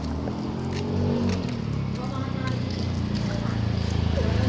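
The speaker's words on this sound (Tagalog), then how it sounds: "Oh, may motor, oh." A motorcycle engine passes close by with a low, steady drone that swells slightly as it goes by, while people talk over it.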